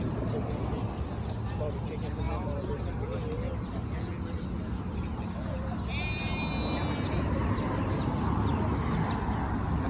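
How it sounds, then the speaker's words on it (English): Newborn chicks in a brooder at a Tractor Supply farm store give a brief burst of thin, high peeping midway, half buried in the steady din of the shop, with people talking. "so we have more chicks in here"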